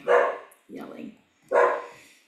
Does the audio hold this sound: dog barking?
yes